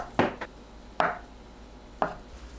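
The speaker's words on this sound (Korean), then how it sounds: "씻은 두부를 1cm 두께로 잘라주세요." Knife chopping through washed tofu on a cutting board, cutting 1 cm slices: three crisp, separate knocks roughly a second apart, close and clear, with no talking.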